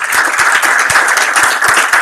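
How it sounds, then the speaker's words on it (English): Audience applause at a game studio build review, a small group clapping with distinct individual claps in an uneven rhythm, steady and fairly loud throughout. "Round of applause."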